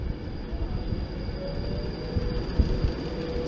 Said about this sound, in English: City of Coventry, Virgin Pendolino to London Euston.